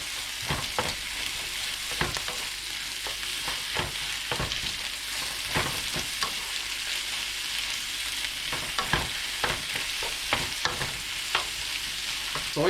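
Bitter melon stir-fried with eggs in a pan gives a continuous close sizzle, with repeated sharp scrapes and clatters of a spatula tossing the food at an irregular rhythm, no talking.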